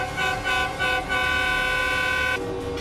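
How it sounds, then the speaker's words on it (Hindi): Truck drivers protesting in Ottawa lean on their horns, with several loud horn blasts overlapping into a steady, sustained honking chorus that pulses early on and then holds, with no voices. "प्रदर्शनकारी विरोध में लगातार हॉर्न बजा रहे हैं।"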